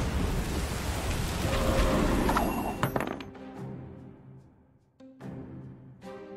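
A rain weather effect is played in the Gwent card game, a dense hissing downpour that fades after a few seconds into sparse clicks and chimes of game sounds.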